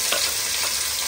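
Onions hitting hot oil alongside browned cashews, a dense, loud and continuous sizzle over a brief moment with a faint stir, no speech.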